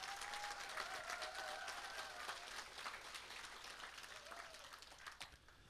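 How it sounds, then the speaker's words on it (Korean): Audience applause at an outdoor political rally welcoming former party leader Seo Chung-won, steady crowd clapping throughout, fairly distant and faint, with some whistles and murmuring mixed in. "뜨거운 박수로 환영해 주시기 바랍니다"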